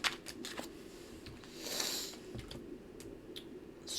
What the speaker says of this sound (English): if you don't like the shuffling, you can always just fast forward a little bit